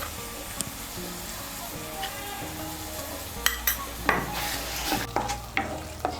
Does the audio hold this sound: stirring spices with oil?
yes